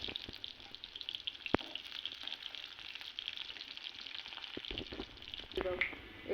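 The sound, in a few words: onions frying in hot oil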